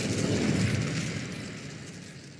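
The Incendio fire spell goes off in the video game Hogwarts Legacy as a loud, fiery whooshing burst that swells at once and then slowly fades out over a couple of seconds, with no voices.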